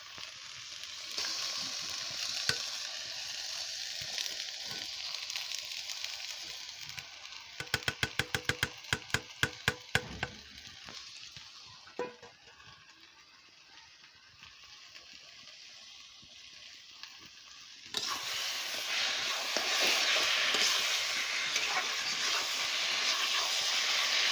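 A fish head fries in oil in a pan for cooking with taro greens, a steady close hiss and sizzle that drops off midway, breaks into a burst of sharp crackles and then swells back to loud frying.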